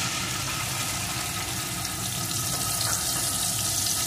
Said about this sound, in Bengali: এখন এর ভিতরে আমি পেঁয়াজ, রসুন, কাঁচা লঙ্কা আর আদার পেস্টটি প্রথমে দিয়ে দেব।